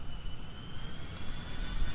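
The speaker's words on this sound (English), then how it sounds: "Hear a jet taking off in the background." Jet airplane taking off near Gillespie Field in San Diego, a steady broadband roar of the engine heard at a distance throughout.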